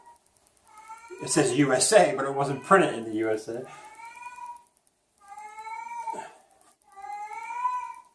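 A pet cat screams out a couple of loud, drawn-out meows indoors right after a person finishes speaking; the cries come in two separate bursts with short pauses between them.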